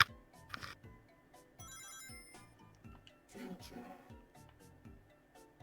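Bright electronic chimes from the Sonic CD time travel effect ring out over sparse game sound effects, a short shimmering run of tones set against soft thuds and blips.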